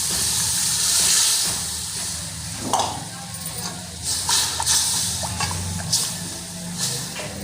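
Yakhni broth poured into a hot pan for a chicken roll filling, giving a loud, steady steam hiss with sizzling and scattered clinks, while a voice speaks briefly.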